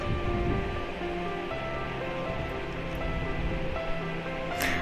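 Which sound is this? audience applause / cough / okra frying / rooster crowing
okra frying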